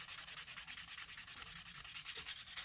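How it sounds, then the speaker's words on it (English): Dip powder nails are buffed down with quick, even back-and-forth strokes, a soft close rasping rub repeated rhythmically throughout without any voice. "when that's nicely dry and you tap it and you get that nice crisp sound, then it's time to start buffing down"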